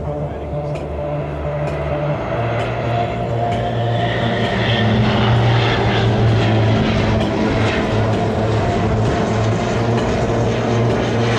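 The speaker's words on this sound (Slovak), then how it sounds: "kedy lietadlo letí s vysunutým podvozkom a s tlakovými klapkami" A Spartan propeller airplane flying with its landing gear and flaps extended, a loud steady droning engine roar with a low throbbing tone that persists throughout, with a voice talking over it.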